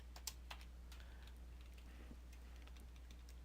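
Light typing on a computer keyboard entering code, with scattered soft key clicks over a faint steady hum, heard alone.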